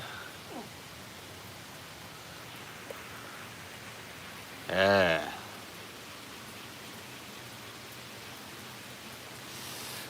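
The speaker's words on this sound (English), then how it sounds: "Now it's coming down proper." Rain falls straight down in a heavy, steady downpour. It makes a broad, even hiss across the whole stretch, with a short spoken word partway through.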